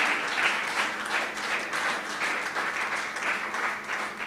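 A church congregation in Bonaire breaks into steady, sustained applause, a dense wash of many hands clapping at even loudness throughout with no talk.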